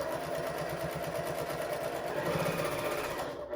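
Sewing machine lock-stitching back and forth across a seam on a fabric pillow, a fast steady mechanical whir and rapid needle rhythm, close and continuous, slowing briefly near the end.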